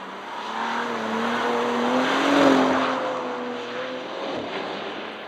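A Bentley Continental GT Speed coupe or convertible driving, its engine note swelling to a loud peak midway through a pass and easing off again, heard alone with no voices.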